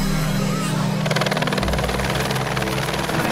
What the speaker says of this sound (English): We headed over on the chopper over to Alert Bay.